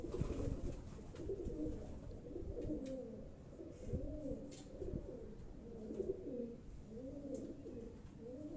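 Pigeons kept on a Karachi rooftop cooing softly in repeated low, throaty phrases, several calls in a steady rhythm, quiet and close with no talk.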